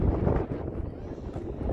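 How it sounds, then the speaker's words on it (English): Wind gusts across a mountaintop observation deck at a ski area, giving a steady low rumble and buffeting on the microphone for a couple of seconds, with no talking. "It's so windy up here"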